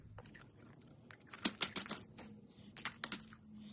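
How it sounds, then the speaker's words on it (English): Artificial Christmas decoration stems being cut into single pieces for a wreath, producing quiet, close, crisp snips and clicks in a loose irregular series. "I'm going to cut these individually"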